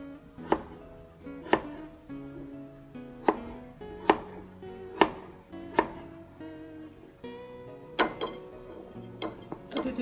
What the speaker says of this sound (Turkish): şu şekilde küp küp doğruyoruz